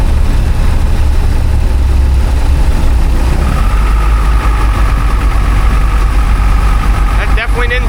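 A classic boat's engine running loud and close, a steady heavy idle-like rumble that rises in pitch as the revs pick up near the end.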